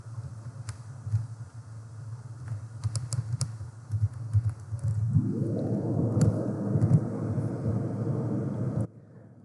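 Typing on a computer keyboard while writing Python code: scattered light key clicks over a low hum, then a rising rumbling roar that takes over before cutting off abruptly near the end.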